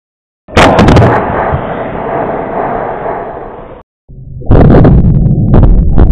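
A solar-powered flash steam cannon with a rusty barrel fires with a sudden loud blast and a sustained hiss of venting steam, followed by a second sharp burst and rough roar.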